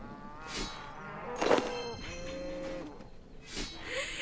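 Cattle in the RuneScape video game moo several times in a row, loud and close, the calls rising and falling in pitch with no talk over them.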